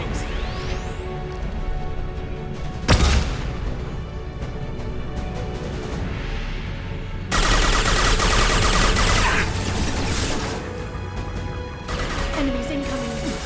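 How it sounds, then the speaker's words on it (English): Flashbang grenades go off during a Mass Effect 2 firefight: two sharp, loud bursts about four seconds apart cut through steady gunfire and battle noise. "Watch out, flashbangs."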